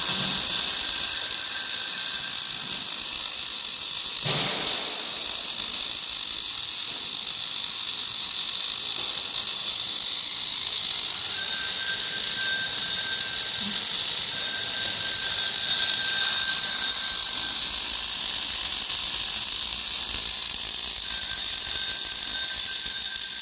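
An automatic ringlock scaffolding rosette seam welder runs continuously, its mechanism giving a steady ratcheting, grinding clatter with a sharp knock near the start and intermittent high tonal hums over the busy machine noise, no talking.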